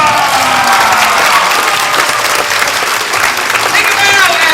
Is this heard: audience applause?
yes